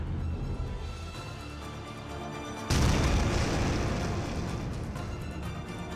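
A deep explosion booms in a heavy water plant with electrolysis chambers, a sudden loud blast breaking into a rumbling background and leaving a long, roaring wash of debris and noise that slowly fades.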